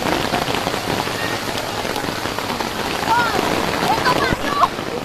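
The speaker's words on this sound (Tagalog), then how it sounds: "nabutan kami ng ulan" Steady rain falling on a surface outdoors, a dense close patter throughout, with faint voices and a few chirps mixed in.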